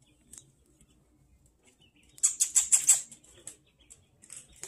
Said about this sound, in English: That's a good bird.